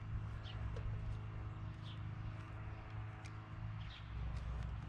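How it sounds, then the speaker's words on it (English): Birds chirp in brief, faint calls outdoors in a garden during tomato planting, scattered over a steady low background hum. "I can hear some birds."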